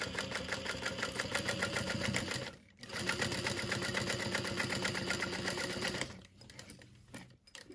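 A sewing machine stitching a wallet while the hand wheel is cranked by hand runs in steady rapid clatter, pausing briefly twice before resuming, close and clear.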